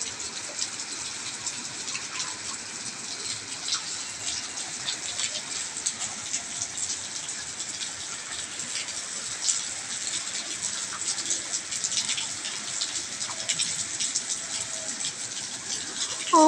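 Heavy rain pours down steadily during a storm, a dense continuous hiss of drops on surfaces filling the whole clip at an even, loud level with no talk.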